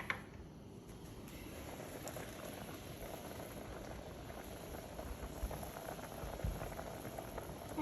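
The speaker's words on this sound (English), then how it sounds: "so then we can bring it back to a boil" Liquid for shrimp with lobster sauce boiling in a covered pot, a faint, steady rolling bubble and patter heard close, with no voices.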